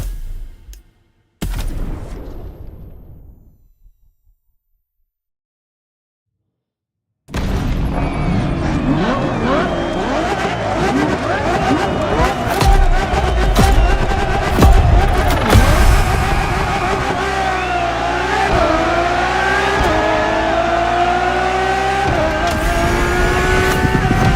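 A Ferrari Enzo in The Crew Motorfest goes quiet after a brief opening sound, then roars back in, accelerating and revving hard with squealing tires in a loud, sustained run of racing noise, with some talk.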